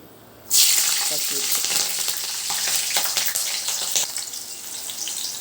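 Slit green chilies dropped into hot oil, bursting into a loud close sizzle that holds steady with faint crackles and stirring, no talk.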